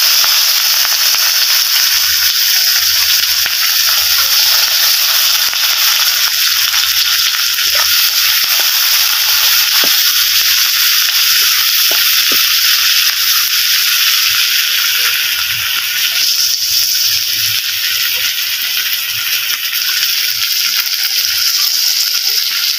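Chopped large onions fry in a pan with a loud, steady hiss and sizzle that holds throughout, with faint low clatters now and then and no voice over it.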